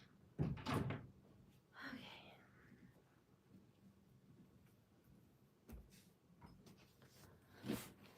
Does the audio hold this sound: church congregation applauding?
no